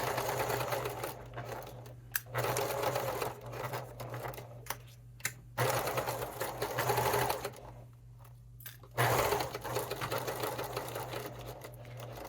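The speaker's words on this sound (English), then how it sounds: "forward stitch and back stitch, and sometimes I lower my my stitch length" A sewing machine runs in steady bursts of rapid stitching, pausing briefly between runs as it goes forward and back, close and fairly loud.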